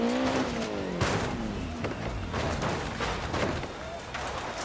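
A rally car in Dirt Rally 2.0, driven on a keyboard, revs and skids, its engine pitch sweeping up and down over continuous road noise while someone talks over it.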